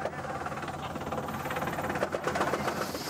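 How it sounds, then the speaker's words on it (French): Rescue helicopter arriving in a combat zone, its rotor producing a dense, steady thudding chop with a loud engine whine that rises slightly, with a voice speaking underneath. "L'hélicoptère arrive."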